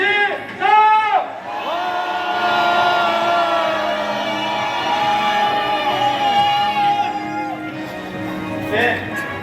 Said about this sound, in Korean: 시민들에서 힘차게 함성 한번 드리겠습니다.